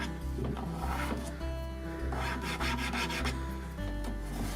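Fingernail scratching across a painted wood hutch side that was scuff sanded, a close, dry rubbing rasp repeated in short strokes, quiet and alone with no talk.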